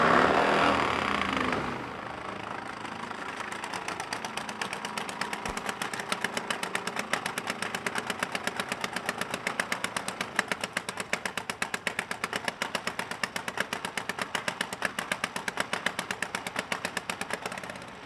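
Racing motorcycles at an AMRA drag racing finals event. After a loud opening roar, an engine runs steadily for a long stretch with a rapid, rattling, machine-gun-like pulse, heard at a moderate distance.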